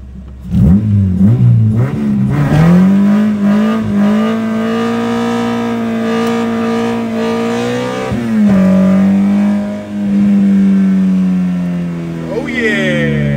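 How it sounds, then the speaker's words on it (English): An Acura Integra fitted with a K24A2 engine does a burnout, the engine revving hard and holding a loud sustained high-rpm roar that dips and climbs again, with faint tire squeal near the end. "Gonna be the first witness to my burnout because I ain't done one since I put the motor in this car."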